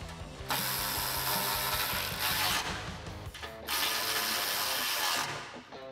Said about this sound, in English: Now I can reinstall my muffler hanger and bolt it down with the 10mm bolts.